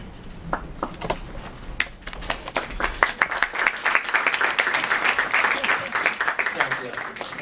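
Audience applause at a Hofstra University panel discussion, starting as scattered claps and building into steady, dense clapping from a seated crowd, with some voices mixed in.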